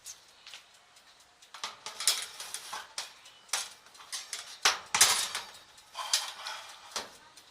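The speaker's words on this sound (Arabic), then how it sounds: "هدخل الصينيه الفرن بتاعتي" A metal baking tray clatters and scrapes as it slides into an electric oven heated top and bottom, with scattered sharp metallic clinks and knocks, close and moderately loud.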